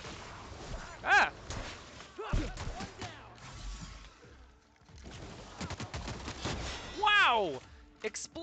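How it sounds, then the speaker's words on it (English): Bursts of gunfire and booming blasts in The Outer Worlds video game pop in quick clusters, with sharp whooshing effects and brief quieter gaps between. "Explosions everywhere!"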